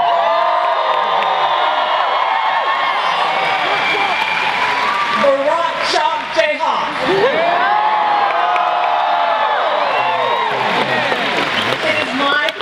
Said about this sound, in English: we welcome him with a version of what Teddy Roosevelt called the best college cheer he ever heard.